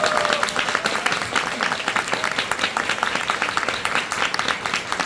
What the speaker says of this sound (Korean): 박수만 한번.